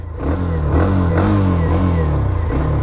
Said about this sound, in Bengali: ইঞ্জিনের সাউন্ডটা শুনতে পারেন কি অবস্থায় আছে।